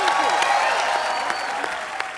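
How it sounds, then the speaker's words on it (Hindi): Studio audience clapping for guests on a Hindi comedy talk show, a dense burst of applause with a few sharp individual claps standing out, fading slightly toward the end. "एक बार नेहा सोहा के लिए जोरदार तालियां।"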